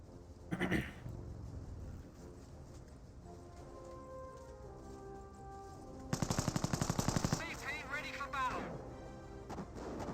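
Machine-gun and rifle fire from infantry and a half-track in the World War II strategy game Company of Heroes, with a rapid burst of shots late on and an earlier single crack, over a steady bed of game ambience and music.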